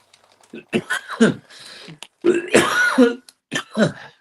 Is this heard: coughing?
yes